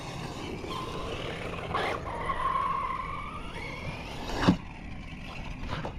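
A Team Corally Asuga XLR radio-controlled buggy whines as it drives and launches over a ramp, its motor pitch rising and falling, with tyre scuffs and a sharp landing thud near the end.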